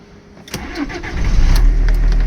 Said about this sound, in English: test if it starts, because the problem was the car didn't start